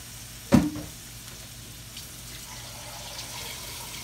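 Liquid is poured into a hot pan of flour and pork chops: a brief sharp splash and hiss burst up, then settle into a soft, steady simmering sizzle.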